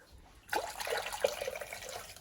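Water is poured into a crock pot with a splashing start, followed by a steady, soft pouring stream lasting under two seconds.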